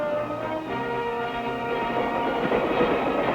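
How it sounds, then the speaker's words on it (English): Passenger train rolling along the rails, a steady continuous rumble with rhythmic clickety-clack of wheels over joints, close and fairly loud throughout, growing slightly busier toward the end; no voices. "Today's trains are faster trains, smoother riding trains, more comfortable trains."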